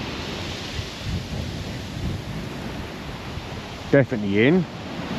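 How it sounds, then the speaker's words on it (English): Big surf rolls up a shingle beach in a monsoon at Chesil, a continuous roaring wash of waves and wind, with a voice speaking briefly near the end. "It's washing up the beach now. It's quite a big surf."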